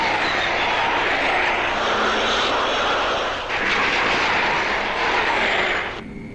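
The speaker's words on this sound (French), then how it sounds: "Avion non identifié à 11 heures au-dessus de nous." An unidentified airplane passes overhead with a loud, steady engine roar and broad rushing noise that holds for several seconds, then cuts off abruptly, heard alone without talk.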